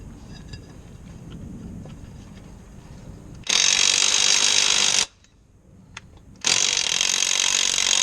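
A ratchet with a socket loosens a 14mm nut on a Mitsubishi Triton brake caliper, giving two loud, close bursts of rapid buzzing clicks with a short pause between them and no talking.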